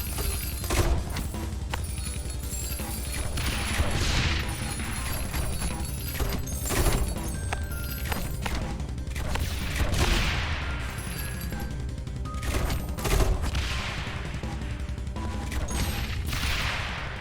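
Towers fire in a video game with rapid gunfire bursts and crashing impacts that repeat in dense clusters over a continuous loud game background, with no talking.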